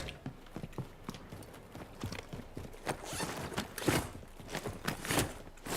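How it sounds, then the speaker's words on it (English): Irregular footsteps thud and crunch at mid distance in Call of Duty DMZ, the steps spaced unevenly and growing louder and closer over several seconds, with no talk over them. "I got footsteps on you"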